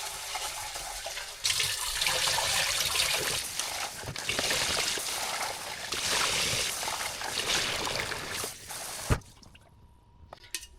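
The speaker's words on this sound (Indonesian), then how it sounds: "Kita cuci berasnya dulu." Jasmine rice washed in water at a kitchen sink: a running tap splashes and trickles steadily for several seconds, then cuts off, leaving a quiet room.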